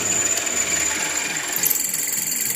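A DIY CNC-converted Clarke drill bores into steel steadily without pecking, with a constant high whine and a dense mechanical hum underneath, close and loud, with no talking.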